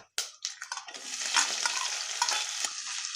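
Onion frying in hot ghee with whole spices for matar pulao, a steady close sizzle with scraping stir strokes, starting after a brief quiet moment and continuing alone without talk.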